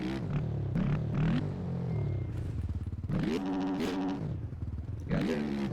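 A motorcycle's throttle is tapped and revved during beginner wheelie practice, the engine rising and falling in several short, loud bursts with brief idle dips between them, close by.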